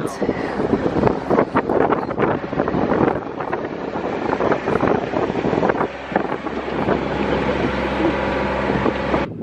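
Sailing yacht under way along the Isle of Wight near Portsmouth, with loud continuous wind buffeting the microphone and a rushing wash of water throughout.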